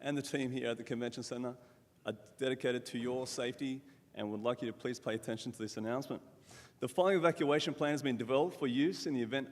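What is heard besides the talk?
No everyday noise stands out behind the speech.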